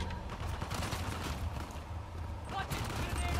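Gunfire in the video game Uncharted: The Lost Legacy, including sniper shots, with bursts of shots cracking over a busy, rumbling game soundscape, a sharper cluster near the end.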